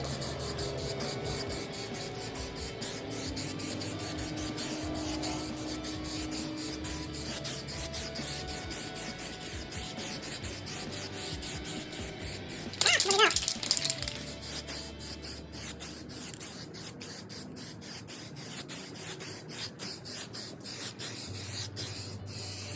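A short, close spray-can burst lays a coat of primer on a BMW E24 633CSi/635CSi front valance, a single hiss of about a second amid long stretches of quiet rubbing and shop noise.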